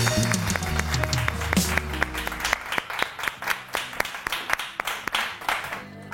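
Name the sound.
audience applause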